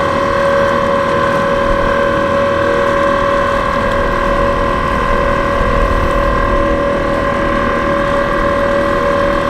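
An inexpensive Amazon electric outboard motor drives a boat upwind with a loud, steady, close whine and tonal hum, while water and wind rush underneath without pause.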